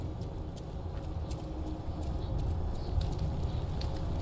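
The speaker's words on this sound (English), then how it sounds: "Thankfully these guys have some loud footsteps" In the video game Lies of P, heavy enemy footsteps come closer as a dull, thudding clomp. The steps repeat over a constant low rumble of game ambience, and no one speaks.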